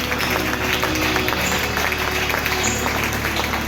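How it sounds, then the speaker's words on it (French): A church congregation at a Sunday service applauds steadily, a dense, even wash of clapping that holds at the same level throughout with a faint crowd murmur underneath. "Acclamons fortement pour la gloire de Dieu"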